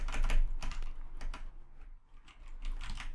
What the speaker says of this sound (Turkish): Şu an var ya klavyedeki bütün tuşlara basıyorum